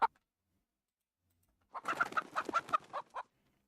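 A chicken clucking sound effect from the video game Lost Harmony gives a short burst of rapid clucks after a brief click and a near-silent pause, close and clear, with no talk.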